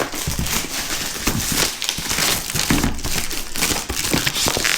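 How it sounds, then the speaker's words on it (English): Cellophane wrap being pulled and crinkled off a DJI Mini 5 Pro drone box, a loud, continuous close-up crackling and rustling throughout. "Get all the cellophane off here."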